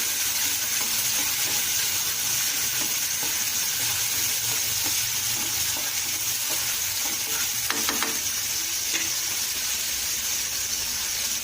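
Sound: onion sizzling while being sautéed in a pan

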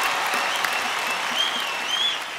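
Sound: audience applause

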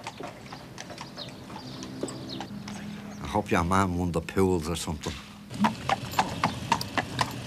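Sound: horse hooves clip-clopping on road

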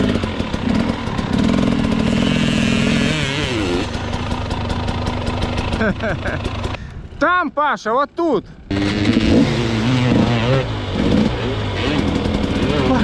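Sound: enduro motorcycle engine idling and revving

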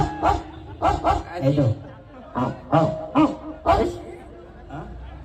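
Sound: person imitating a dog barking

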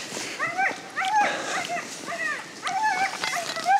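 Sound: husky sled dogs barking and whimpering, eager to run

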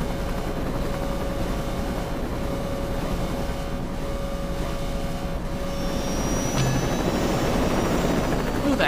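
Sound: helicopter flying in video game Saints Row 2

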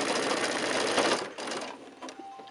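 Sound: sewing machine stitching a quilt block seam

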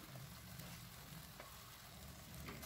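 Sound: onion, ginger and garlic paste sautéing in a pan

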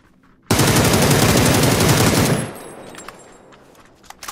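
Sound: gunfire in a shooter video game

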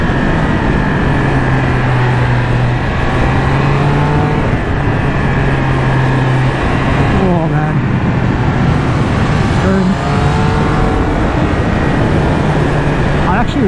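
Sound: Triumph Speed Triple 1200RS motorcycle engine revving at high RPM

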